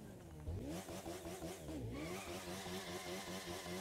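A motorcycle engine in the racing game The Crew 2 revs and accelerates through rising, falling and rising pitch sweeps as the throttle is worked, close and steady, with a brief dip as it shifts.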